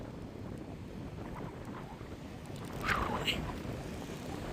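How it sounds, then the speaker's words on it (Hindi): Strong wind at an Oman beach buffets the microphone with a steady low roar, rising briefly in a louder gust, while faint waves wash in the background. "बड़ी तेज हवा।"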